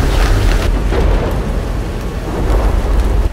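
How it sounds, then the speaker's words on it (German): Storm rain and thunder churn through treetops, a loud continuous rumbling wash with deep low booms rolling under the steady downpour. "Das ist Sturm."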